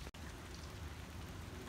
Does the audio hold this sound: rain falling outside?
yes